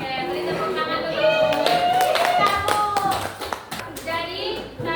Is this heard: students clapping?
yes